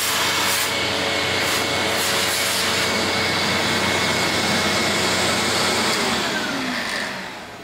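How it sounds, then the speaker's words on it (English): A vacuum cleaner runs loud and steady as it sucks up wood dust from a rosewood guitar fretboard, its whooshing roar holding throughout and fading slightly at the end. "I'm gonna vacuum this up"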